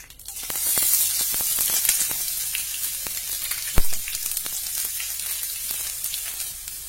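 Onion and green chilli fry in about three tablespoons of hot oil with mustard seeds in a wide heavy pan, a steady loud sizzle with crackles and sharp pops, one strong pop midway, no talking.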